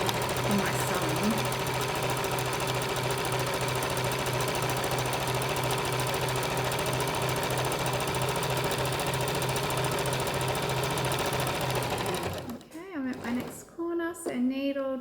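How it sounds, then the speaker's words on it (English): Sewing machine stitching looped t-shirt fabric for pyjamas, a continuous fast mechanical whirr running steadily and close for most of the clip before stopping, followed by a brief voice. "just making sure that all my t-shirt is looped around the machine and not getting caught up anywhere in my sewing."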